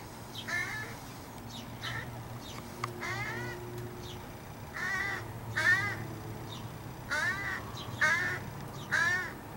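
A crow caws repeatedly while being fed outdoors, a series of short, loud harsh calls in irregular bursts over a low steady background hum.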